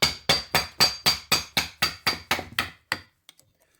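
A restored woodworking chisel is struck in test cuts on wood, a rapid, regular series of about eleven sharp, loud mallet knocks that stop abruptly, followed by a couple of faint taps.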